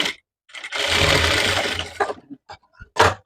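A sewing machine stitches the shoulder seam of a prince cut blouse, a steady whirring run of about one and a half seconds followed by short bursts and taps as the cloth is adjusted, close and fairly loud.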